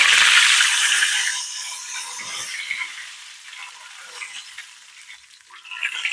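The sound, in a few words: Bloomin' Onion frying in hot oil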